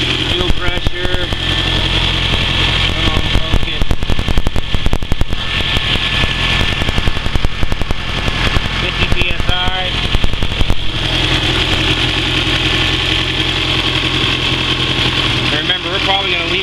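A turbocharged 400hp race Honda Civic engine runs loud and close, holding a steady, rough idle throughout with a slight change in tone partway through.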